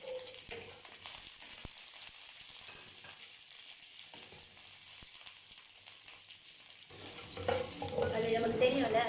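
Fenugreek seeds fry in hot oil in a pan for ginger tamarind pickle, a faint steady sizzle with occasional spoon clicks that swells louder and crackles more near the end.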